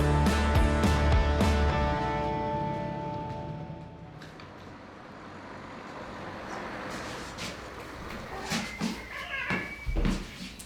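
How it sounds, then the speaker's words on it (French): A cat meows close by in a few loud, drawn-out calls, followed by quieter rustling and background noise. "Mais là, c'est le chat."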